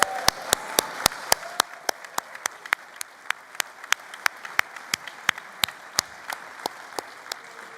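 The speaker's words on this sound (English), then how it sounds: "I think she deserves a round of applause. A big round of applause." Steady applause at a Labour Party Conference for the General Secretary, a dense run of sharp claps repeating at an even pace throughout, loud and close with the murmur of a large hall crowd beneath.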